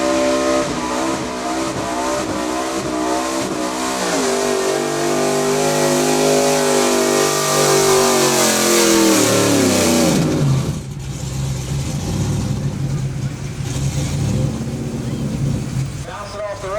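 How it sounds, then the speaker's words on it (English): A 1987 GMC pulling truck roars at full throttle in a truck and tractor pull, its engine bouncing loudly off the rev limiter in a stuttering, sustained drone before shifting and settling into a lower, rougher note. "Bounce it off the rev limiter for a minute before he caught the next gear."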